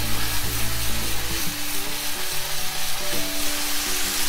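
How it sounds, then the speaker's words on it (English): A cod fillet sizzles steadily in a hot pan and is flipped over, with loud continuous frying crackle throughout. "I'm kinda gonna go ahead and I'm gonna turn and flip my fish"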